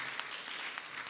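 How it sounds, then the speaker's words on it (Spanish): Applause for a group of children at a church gathering before a parade, a brief, steady burst of clapping from an audience, with a few sharper claps standing out. "otro aplauso a esos niños"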